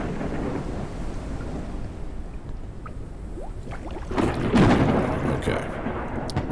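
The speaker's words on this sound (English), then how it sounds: "The storms, they do sound pretty goddamn good." Thunderstorm in the video game Forever Skies, with steady rain hiss and a rolling thunder rumble that swells midway, loud and full, without talk.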